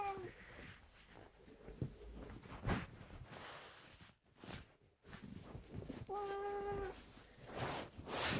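A pet cat gives a couple of clear meows while being wrapped in a towel and put into a carrier box, with rustling, handling noises and a voice talking nearby.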